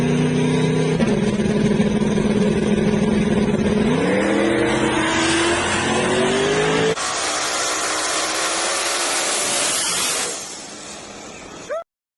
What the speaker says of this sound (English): Those two trucks right there, I would say, in my opinion, and this is just my opinion, probably the two fastest backside trucks in Florida right now.